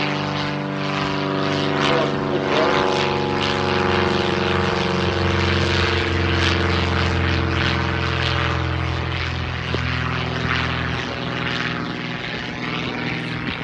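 Propeller training aircraft at a RAAF museum flies aerobatic manoeuvres, its engine giving a steady, strong buzzing drone with layered harmonics and slight pitch shifts over several seconds, heard continuously at a moderate distance.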